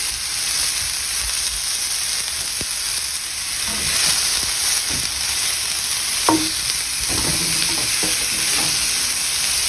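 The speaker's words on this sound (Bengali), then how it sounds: "এখন আস্তে আস্তে ফ্রাই হয়ে থাকবে।" Lightly salted broccoli fries in a pan over low to medium heat, giving a constant dense sizzle with occasional stirring scrapes and clinks, close and alone without voices.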